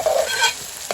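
Onion is stir-fried in a pan for baingan bharta, a quick burst of close scraping and stirring over a hissing sizzle.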